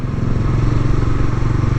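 Engine of a Kawasaki Dominar UG2 motorcycle while riding, a steady close low rumble with pulsing throb throughout, loud and alone with no talk.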